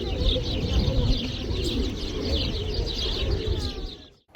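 Pigeons coo repeatedly against steady, blustery wind noise in Pigeon Valley, Cappadocia, Turkey, with a few faint sparrow chirps mixed in. No voices.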